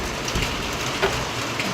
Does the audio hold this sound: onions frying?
no